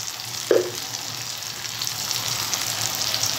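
Bitter gourd fries with coriander powder, salt and spices in a pan, a steady hissing sizzle throughout, with a brief stirring clink near the start.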